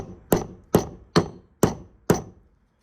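A hammer strikes the governor gear on a Predator 212 non-hemi engine five times in an even rhythm, sharp close metallic blows with short ringing decay and no talk.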